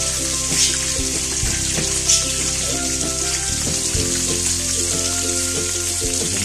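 Shrimp and sliced onion sizzle steadily in a hot pan as chopsuey is cooked, a dense, even crackle with a few clanking utensil knocks and stirs, close and loud with no talking.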